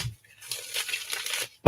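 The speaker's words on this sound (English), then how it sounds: "Shuffle one more time." A deck of tarot cards being shuffled, a few seconds of soft papery riffling and crinkling close by, ending with a sharp tap.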